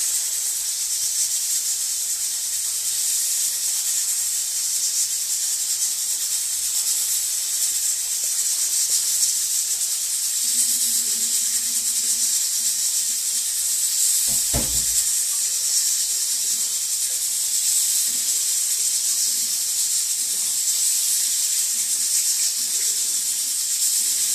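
Fish frying in hot oil in a pan for a local fish stew, a constant loud sizzling hiss that goes on throughout, with one brief sharp knock partway through.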